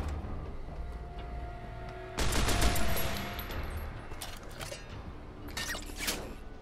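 Rapid automatic gunfire from a modded rifle with recoil compensator and extended magazine in Fallout: New Vegas, a loud sustained burst of about two seconds followed by scattered shots and mechanical clatter.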